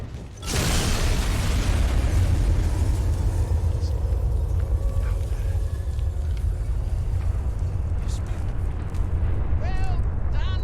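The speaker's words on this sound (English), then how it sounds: "What a grand display of fireworks." Megaton's atomic bomb detonates in Fallout 3: a huge sustained rumbling blast that swells loud and fills the whole stretch, with faint mechanical tones and scattered crackles trailing over it.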